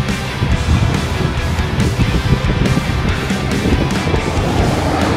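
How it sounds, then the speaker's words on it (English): Roadside traffic rushes past close by, a loud continuous roar of cars with whooshing passes and heavy wind buffeting on the microphone. "Cars are zooming by, so I'm gonna come a little closer so y'all can hear me."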